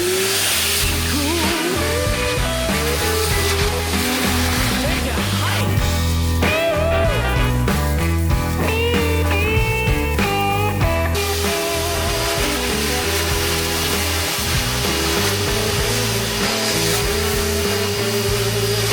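A DeWalt DXV234P wet/dry vacuum fitted with a DXVCS002 cyclone separator runs in its second power mode, a loud, continuous motor whine and airflow roar with shifting tones, heard close up with no talk.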